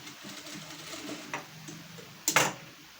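Sewing machine stitching a straight seam on a katori blouse gives a soft, rapid ticking whir, ending in a brief louder clatter of the mechanism, close and fairly quiet.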